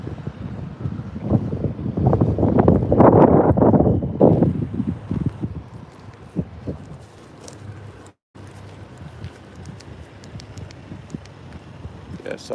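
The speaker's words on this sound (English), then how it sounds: "I bet it sounds windy" Wind gusts into a microphone outdoors near a wildfire off a mountain highway, loud low rumbling buffets in the first seconds that ease into a quieter, steady breeze, with a brief dropout midway.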